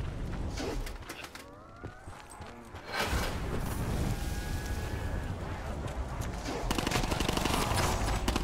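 Dense gunfire and explosive bursts from a Call of Duty: Black Ops 4 Zombies match, with a fusillade of shots building to a loud, sustained barrage in the second half amid layered game sounds.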